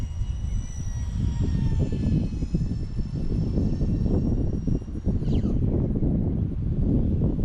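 An E-flite UMX A-10 radio-controlled model jet flies overhead, its small ducted-fan engines giving a steady whirring roar that rises and falls slightly, with a brief whistle midway and no talking.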